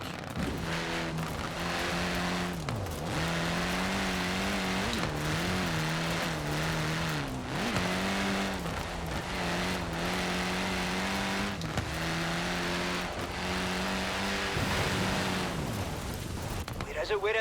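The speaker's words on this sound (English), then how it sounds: "Like pops and bangs, but because it's actually like a rally car." A revving rally car engine with crackling pops and bangs, loud and continuous, rising and falling as it accelerates on a dirt road, with a voice talking over it, in the video game Forza Horizon 4.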